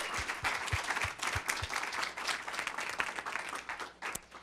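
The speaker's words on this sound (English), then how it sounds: "Please join me in giving Jesse another round of applause for this powerful training" A seated audience applauds after a training session on the theory of change, continuous dense clapping from many hands throughout, with a few sharper claps close by.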